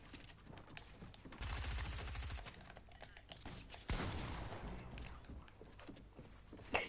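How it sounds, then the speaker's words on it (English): Video game SMG fire: a rapid stuttering burst of shots, then a second sustained volley of dense gunfire, with clicky background noise between. "with this SMG, you can kill people in 7 bullets"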